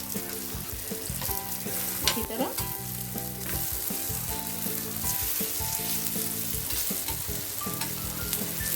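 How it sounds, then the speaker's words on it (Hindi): Paneer pieces frying in a pan make a loud, continuous close sizzle, with occasional scrapes as the pieces are turned. "इसी तरह सब हम फ्राई कर लेते हैं, दोनों साइड ऐसा लाल करके"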